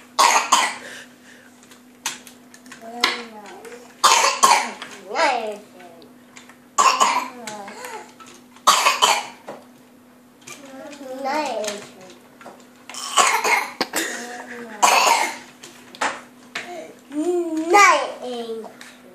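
A small child coughs repeatedly in short bursts scattered among bits of childish babble and chatter indoors, the coughs fairly close and interrupting the talking throughout.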